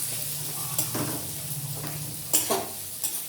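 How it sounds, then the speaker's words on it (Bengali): Onion and garlic fry together in a pan with a soft steady sizzle, while a utensil stirs and scrapes in a few sharp bursts over the hiss. "পেঁয়াজ আর রসুনটা আমি একসাথে ভেজে নিচ্ছি"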